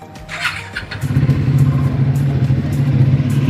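A Triumph Speed 400 motorcycle with 2,200 km on it fires up in a showroom, then settles into a loud, close, throbbing exhaust rumble with quick rev blips.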